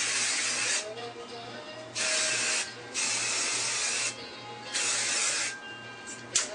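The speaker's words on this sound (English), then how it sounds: "spray it all up" Several long hissing bursts from an aerosol can of hairspray on curled hair, each lasting about a second with short pauses between, close and loud.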